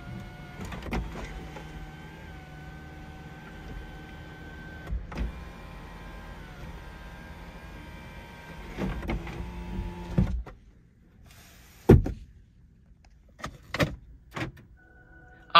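The power sunroof of a Lexus UX250h F Sport hums as its motor tilts and slides the glass, a steady faint whir inside the cabin ending with a soft stop, then several sharp clicks and knocks.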